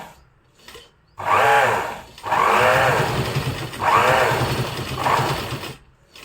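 High-speed sewing machine stitching through a thick folded, frilled fabric mat, running in four strong bursts with brief pauses between them, close and loud.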